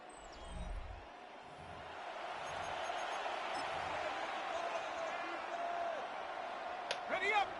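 Stadium crowd noise from Madden 26 football, Madden Ultimate Team on EA Sports, swelling steadily on a 3rd down play as a broad continuous roar, with thumps early and brief sharp hits near the end.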